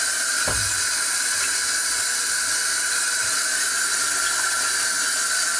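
Steady hiss of running water rinsing a freshly developed cyanotype print, a continuous tap-like wash at close range with no voices.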